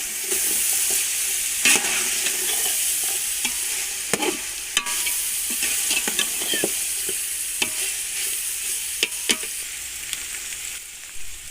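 Green chillies and capsicum are stirred in a hot pan while cooking chicken vegetable fried rice, with a continuous sizzle and repeated sharp scrapes and clacks of the spoon against the pan, close and clear, no voices.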